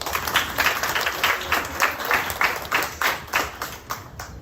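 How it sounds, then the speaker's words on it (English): Clapping from an audience at a fifth-grade class award ceremony as a student receives a certificate: a continuous, lively burst of many hands in a room, loud and even throughout, with no talk over it. "So we'll give a round of applause for Nevaeh"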